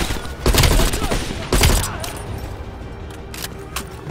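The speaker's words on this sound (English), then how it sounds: "There's a guy shooting at me somewhere." Gunfire in Call of Duty Black Ops Cold War: two sharp, loud bursts of shots close together, then fainter scattered pops and battle noise trailing off.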